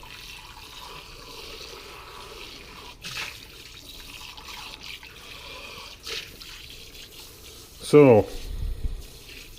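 Tap water runs in a faint, steady trickle while coffee equipment is washed out, with a brief spoken word and some clattering near the end.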